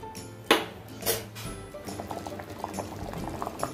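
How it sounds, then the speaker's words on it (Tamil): A pot of tomato rice bubbles at a steady boil in a pressure cooker, with a couple of brief clinks and pouring splashes near the start, then continuous simmering. "நல்லா கொதிக்குது."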